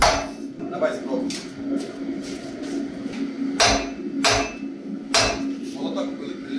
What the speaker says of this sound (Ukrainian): Намагаючись зробити такий скос молотком.